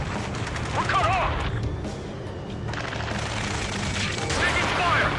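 Gunfire in an Ace Combat 7 mission near a space elevator, bursts of shots and crashes rolling through a busy battle soundscape, with shouting voices over the action.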